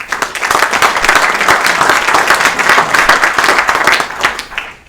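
An audience at a round-table conference breaks into sustained, dense applause, loud and close, holding steady for several seconds before tapering off at the end.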